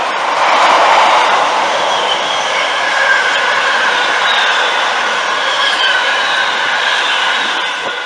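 Locomotive 66951 hauls a container freight train through Newark North Gate station, a loud, sustained rolling roar with faint wheel squeal as the wagons pass close by.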